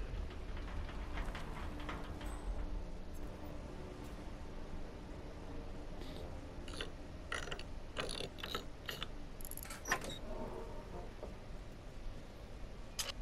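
Safe being opened in the Hitman game, set in Marrakech: a steady run of clicking, ratcheting mechanical sounds over a low hum, with sharper clicks clustering toward the end.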